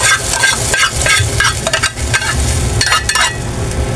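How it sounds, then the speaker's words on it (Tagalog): Cooked mung beans slide into a hot pan and sizzle loudly, with steady frying hiss and the scrape and clatter of a spoon stirring against the pan, close up. "Lipat na natin itong ating munggo."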